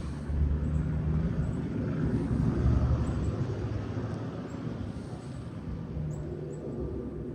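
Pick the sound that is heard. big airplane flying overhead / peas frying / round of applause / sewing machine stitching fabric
big airplane flying overhead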